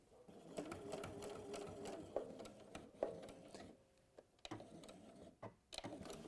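A sewing machine runs a short holding stitch, giving a quiet, close, steady mechanical whir with ticking clicks, brief pauses and a restart near the end.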